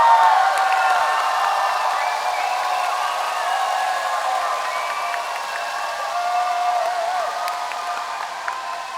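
A large conference audience at a Bangalore tech demo competition applauds and cheers to vote for a team, a dense, sustained roar of clapping with whistles and shouts that holds steady for the whole stretch.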